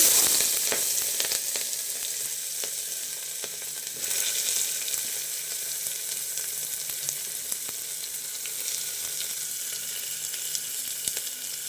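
Onions frying in hot oil with asafoetida give a continuous, loud, close sizzle with faint stirring clicks underneath, steady throughout.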